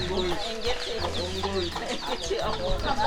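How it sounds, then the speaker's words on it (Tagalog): Chickens and small chicks clucking and peeping together at a rural farm, a steady, close chorus of chirps and clucks running through the whole stretch. "Chicken. Yan, may mga sisiw."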